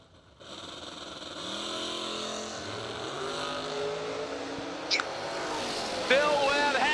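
Pontiac and Oldsmobile drag race cars launching side by side at a bracket race, a far-off engine roar that builds and holds, with announcer-style crowd noise and a faint squeal near the end.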